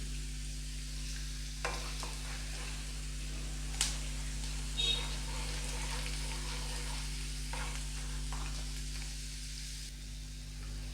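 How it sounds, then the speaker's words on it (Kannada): Cashews frying in oil in a pan as a tempering for rava idli, a steady soft sizzle with faint scraping stir clicks, fairly quiet and continuous with no talk. "ಗೋಡಂಬಿ ಎಲ್ಲ ಫ್ರೈ ಆಗಿದೆ"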